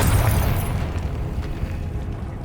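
A Confringo explosive spell from Hogwarts Legacy bursts in a loud, rumbling blast that fades into a low, lingering roar over about two seconds, with no voices.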